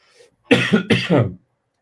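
Two or three hoarse, chesty coughs in quick succession, loud and close, with nothing else around them.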